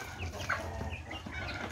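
Chickens cluck on a farm, several birds making soft overlapping clucks and a brief higher call over a low steady background.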